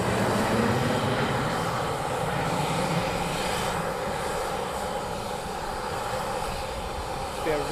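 A steady, droning roar from inbound aircraft approaching RAF Coningsby holds at a moderate, distant level throughout, with no break.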